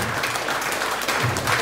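Audience applause in a church testimony gathering, steady dense clapping from many hands, loud and continuous throughout.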